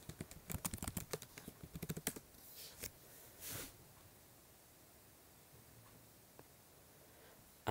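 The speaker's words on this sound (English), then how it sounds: "type in your password." Quick keystrokes on a Mac computer keyboard as a password is entered, a close burst of rapid clicking taps that ends after a couple of seconds, followed by a few isolated taps and a quiet room.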